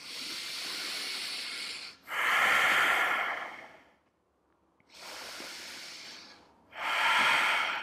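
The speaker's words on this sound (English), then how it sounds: "And let's take a few more deep breaths." Slow, deep yoga breaths, two long airy inhale-exhale cycles separated by a quiet pause, close to the microphone and steady in rhythm.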